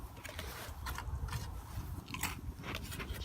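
Dry roasted peanuts from an MRE (Menu 21) crunched between the teeth, producing steady, close-up bites and chewing crackle for about three seconds with no talking.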